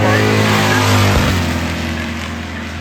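Drag-racing launch of a 1984 Chevrolet C10 pickup with white patina and an S10 Blazer on radial tires: a loud, close engine roar with a sharp rev surge partway through, then sustained droning power.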